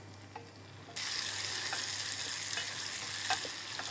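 Butter is stirred into nearly finished caramel over a low flame. After a second of near quiet, a sudden hissing sizzle starts and carries on steadily, with faint stirring clicks.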